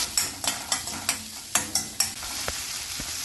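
Chopped tomato and turmeric powder sizzle in a pan for a Kerala sadya masala curry while a spoon stirs in quick, regular scraping strokes, close and loud with no talk.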